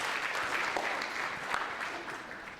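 Audience applause fills a symposium hall on internationalization from the students' view, steady dense clapping at moderate level from start to finish, close and alone without speech.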